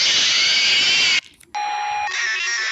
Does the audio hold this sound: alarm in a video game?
yes